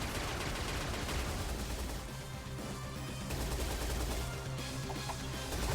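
Seeker Shot spammed in the video game Shantae Half-Genie Hero during a boss fight, a relentless rapid barrage of shots and impacts, loud and dense throughout with no pause.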